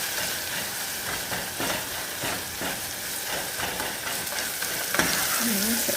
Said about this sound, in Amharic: እሳት ገባ እንዲለው አድርገን በደንብ ማሸት አለብን ማለት ነው።